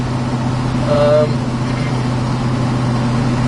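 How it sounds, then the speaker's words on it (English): A 1971 Chevrolet pickup truck engine drones steadily while driving at a little over 50 mph, with a low rumble and road noise throughout and a brief whine rising near the start. "Car sounds good."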